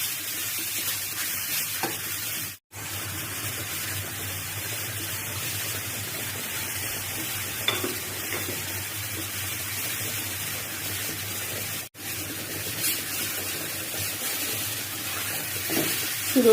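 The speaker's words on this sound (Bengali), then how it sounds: "নেড়ে চেড়ে ঘিয়ের সাথে মিশিয়ে দিচ্ছি।" Grated carrot laddu mixture sizzles softly in ghee over low heat while a spoon stirs and scrapes the pan, a steady hiss with occasional clatters.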